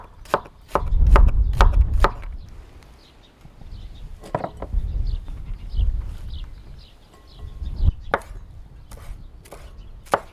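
Onion and cilantro are chopped with a knife on a board for a fish sandwich dressing, giving sharp close knocks in quick bursts separated by quieter pauses.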